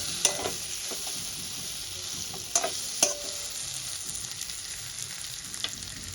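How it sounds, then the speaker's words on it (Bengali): Spice paste frying in a pan for a thin rohu fish curry with potato, a steady close sizzle with occasional sharper clacks of the stirring spoon against the pan and no speech. "যতক্ষণ মশলার কাঁচা গন্ধটা চলে যায় ততক্ষণ পর্যন্ত কষিয়ে নেব।"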